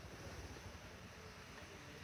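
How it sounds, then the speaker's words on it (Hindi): Heavy rain pours down outdoors at a roadside puncture repair stop during a motorcycle trip through Kirthar National Park, a steady, dense broadband hiss with no breaks and no voices. "अच्छा, एक बार फिर बारिश का सिलसिला शुरू हो चुका है"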